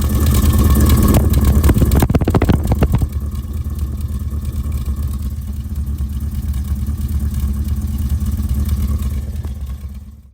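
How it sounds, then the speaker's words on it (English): A 4-cylinder car with a single driver's-side rear exhaust idles with a throaty, steady burble, loud and close, with a brief revving clatter at the start before settling into an even rumble that fades at the end. "for a 4-cylinder car that has a bit of a throaty sounding exhaust"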